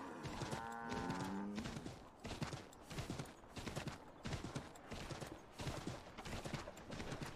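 Horse hooves clip-clop steadily in Assassin's Creed III, a regular trotting rhythm that runs throughout, fairly close and clear over a soft ambient game background.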